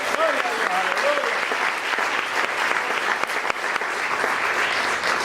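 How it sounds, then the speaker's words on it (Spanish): Church congregation applauding during a Spanish-language sermon, loud sustained clapping throughout with a voice briefly heard over it near the start. "Denle un aplauso fuerte al Señor."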